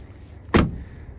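Trunk lid on a used car at a salvage yard thumping shut, a single close, loud slam with a short ringing decay over quiet background.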